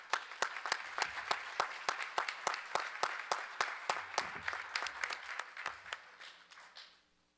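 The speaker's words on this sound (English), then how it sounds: "We give them a round of applause before they get rolling." Slow, measured clapping for Rainbow Elementary School students at a school board meeting, about twenty distinct sharp claps in an even rhythm, echoing in the room and then fading out.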